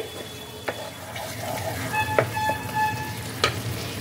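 Masala paste for a pabda fish curry frying in oil after several minutes of cooking, the oil starting to separate; a steady low sizzle with a few sharp clicks and pops from close by, no talking.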